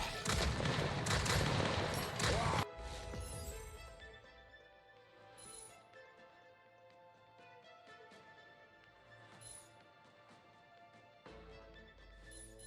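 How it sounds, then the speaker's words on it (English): Homing missiles launching and exploding in a video game, a dense loud burst of rapid blasts at the start, then scattered lighter impacts over layered game music. "Chance to launch 3 homing missiles?"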